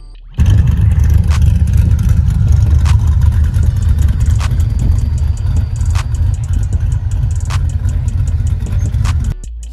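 Mazda RX-7 with forged pistons and rods idles loud and close, a steady rumbling engine drone that starts abruptly and holds for about nine seconds before cutting down, with no talking.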